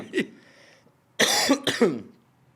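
A man coughs after eating spicy meat, giving one short cough, then after a pause two harsh, close, loud bursts of coughing in quick succession.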